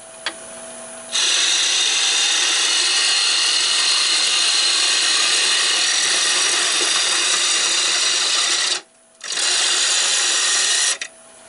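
A bowl gouge cuts a wooden bowl on a lathe, a steady loud whirring scrape that runs continuously, drops out briefly near the end and resumes, with no talk.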